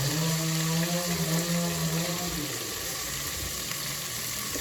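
Onions, green chilies and curry leaves fry in hot oil with a steady close sizzle, a tonal hum underneath that fades partway through.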